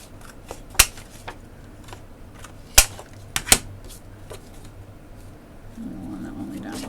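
Vellum paper is cut in a few sharp, close snips spaced seconds apart over a quiet room background with a low steady hum.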